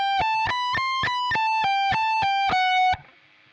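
A distorted electric guitar plays a fast lick from a solo, about ten sharply picked notes in an even triplet rhythm, then cuts off into a faint hiss.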